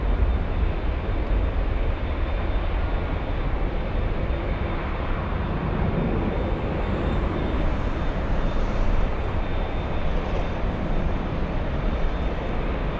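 A jet airliner departing LAX for Lima, Peru, roars loudly and steadily with dense broadband engine noise that stays level throughout, with no voices.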